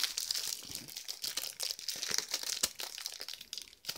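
Plastic film is peeled off a boxed anime soundtrack CD set, a close, continuous crackling and crinkling with sharp crunchy bursts throughout and no talking.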